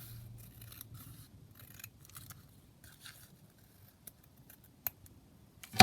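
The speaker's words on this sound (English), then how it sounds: "I'm just going to cut down this side." Scissors cut paper for a junk journal, a series of faint, close snips and scrapes spaced unevenly in a quiet room, with a sharper click near the end.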